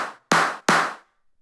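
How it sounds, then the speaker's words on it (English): A wet clap sample with heavy reverb in a music production, struck twice in quick succession, each hit bright and sharp with a smeared tail that decays into silence. "That was actually a clap."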